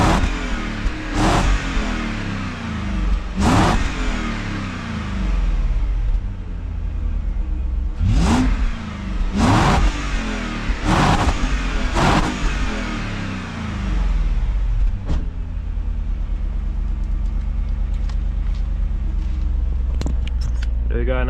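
The 4.4 V8 of a BMW E39 540i Touring idles with a deep burble and is blipped repeatedly, each rev rising and falling quickly through a muted standard exhaust, with occasional talking.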